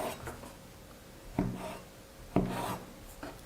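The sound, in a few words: knife cutting dough into strips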